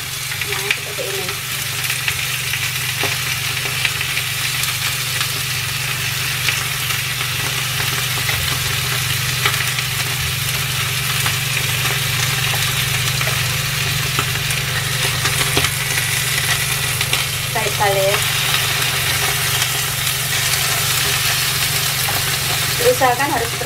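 Steady sizzling of sliced duck breast frying in a pan, a continuous crackling hiss with a low engine-like hum underneath and brief voices now and then.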